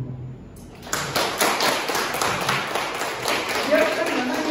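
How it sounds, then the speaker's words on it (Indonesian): Church youth service audience claps together after a prompt, a dense steady patter of many hands at moderate loudness, with some background voices. "Tepuk tangan dong."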